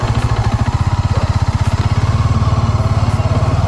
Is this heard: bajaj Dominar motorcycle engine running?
yes